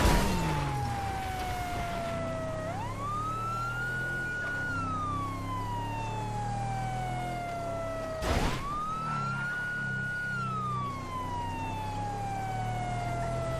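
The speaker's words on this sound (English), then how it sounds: "I have figured out the new siren system a bit more, aka Albo's Siren Mastery." A video game police car siren wails in long rising and falling sweeps, loud and close, with a low engine rumble underneath.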